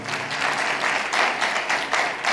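A church congregation at a sermon applauds loudly, a dense sustained wash of clapping that swells in waves for a couple of seconds.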